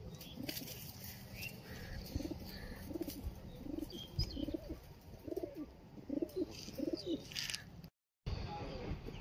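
Repeated soft pigeon coos in a steady rhythm, close by, over faint background noise, with a brief dropout near the end.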